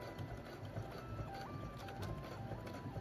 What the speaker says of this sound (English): Slowly adjust the sewing machine, sewing back and forth to secure it.